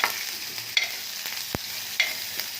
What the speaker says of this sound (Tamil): இது தாளிப்பு.